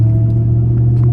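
A 600-horsepower 2027 Dodge Charger Super Bee inline-six engine gives a loud, steady low rumble that holds one even droning note for the whole moment, with no speech.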